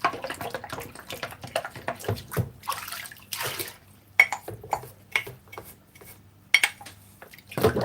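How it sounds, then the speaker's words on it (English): Dishes and a wooden skewer are washed by hand in a sink, with splashing water, clinks of crockery and cutlery, and irregular sloshing bursts, close and moderately loud. "I've got 2 more things to wash up"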